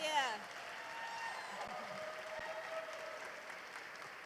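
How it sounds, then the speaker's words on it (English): A crowd applauds steadily, a dense wash of clapping that holds at an even level throughout. "Can we give them a huge round of applause?"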